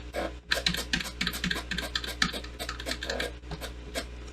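Rapid clicking keystrokes on a computer keyboard during DaVinci Resolve editing shortcuts, close and fairly loud, in irregular bursts and clusters over a low steady hum, with no talking.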